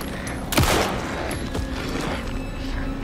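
A single loud gunshot in Alan Wake 2 cracks sharply up close, then trails into a dense rumbling echo and a steady noisy background.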